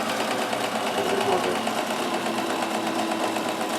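A Kenmore 158.1914 sewing machine stitches a dense satin stitch at good speed, a steady, continuous close-up mechanical whir with rapid needle rhythm throughout.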